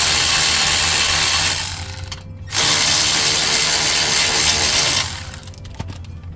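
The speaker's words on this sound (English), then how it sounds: "to speed up the process, we'll use our Mawaki M12 ratchet" Loud whirring bursts from a Mawaki M12 power ratchet spinning out front brake caliper bolts on a 2015 Nissan Versa, two long runs split by a short pause, with no talking.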